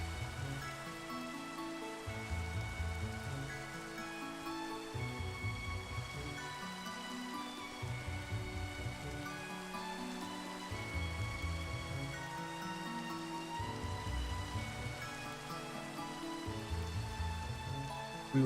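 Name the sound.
rain in the video game Cobblemon (Minecraft)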